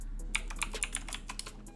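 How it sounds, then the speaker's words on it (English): Quiet, close clicks of keys on a computer keyboard come in a quick, irregular patter, several keystrokes in a short burst with no voices. "And the way we do that is we're going to type search"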